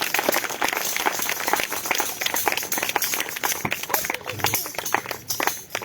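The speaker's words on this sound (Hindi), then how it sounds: "सभी जन ताली बजाएं परमेश्वर के लिए।" A church congregation claps along during Hindi-language worship, a dense run of rapid, overlapping hand claps filling the whole stretch at steady loudness, with singing or voices mixed underneath.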